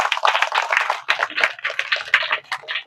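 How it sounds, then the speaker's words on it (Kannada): An audience applauds a retiring headmaster at a government primary school farewell, dense continuous clapping from a crowd that keeps up a steady patter throughout. "ಒಂದು ಜೋರಾಗಿ ಚಪ್ಪಾಳೆ ಮೂಲಕ ಸರ್ ಅವರಿಗೆ"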